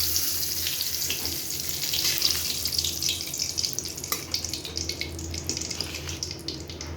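Dried red chillies and bay leaves sizzling in hot oil, a steady close crackle and hiss that continues without a break, with no voices over it.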